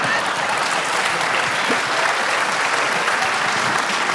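Sustained audience applause at a public talk event in an Frankfurt forum hall, a dense, even roar of many clapping hands filling the room from start to finish.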